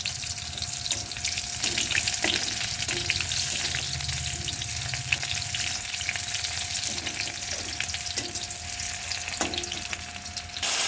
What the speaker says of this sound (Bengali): এরপর এর মধ্যে পেঁয়াজটাকে দিয়ে লাল লাল করে ভেজে নেব